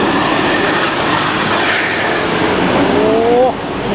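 An intercity bus on the Jakarta–Bandung route roars past close by in a loud, continuous rush of engine and road noise, with a brief rising tonal horn near the end and voices over it.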